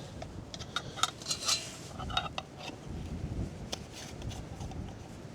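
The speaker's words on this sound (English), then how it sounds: "we can put the lid with the rubber ring in and screw it on" Light metallic clinks and scrapes as the lid with its rubber ring is screwed onto a Trangia stove burner outdoors, small scattered taps close to the microphone over faint wind.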